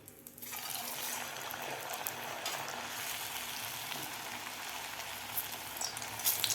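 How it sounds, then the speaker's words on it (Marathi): Bharda vadas frying in hot oil over a high flame, a dense, steady sizzle that starts abruptly and carries on close and loud with small crackling bursts, no voices. "तर आता आपण लगेचच वडे तळून घेऊया."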